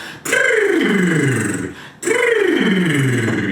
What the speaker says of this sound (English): The first one is just a lip buzzing.